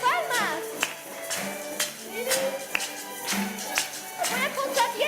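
An audience of children claps hands at a children's theatre show, with sharp claps landing about once a second under lively talking and sing-song voices.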